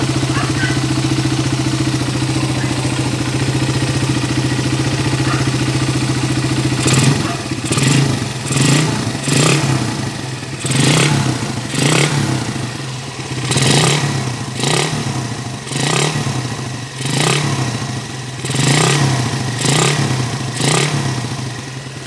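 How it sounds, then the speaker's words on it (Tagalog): A Raider 150 New Breed or TMX155 motorcycle engine revs in a series of sharp, rhythmic bursts after a steady idle, loud and close, with a rough grinding edge inside. "Yung pag nire-revolusyonan mo tapos binitawan mo yung kanyang silinyador, maririnig mo parang may magaspang na umikot sa loob."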